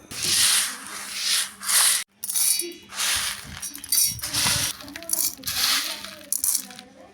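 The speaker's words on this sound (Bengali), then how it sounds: "এখন ব্লেন্ডারে গুঁড়ো করে নিতে হবে।" A blender grinds sun-dried lentils into powder in several loud, gritty bursts, each cutting off abruptly before starting again, close up and harsh.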